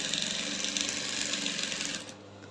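A sewing machine runs steadily while top stitching the neckline of a drop-shoulder kaftan, a continuous close mechanical whir that stops abruptly near the end.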